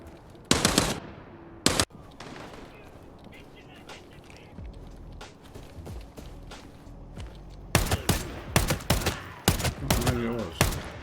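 Gunfire in the video game Arena Breakout Infinite: sharp shots at first, then rapid bursts near the end, loud against a quieter background, with voices talking in between.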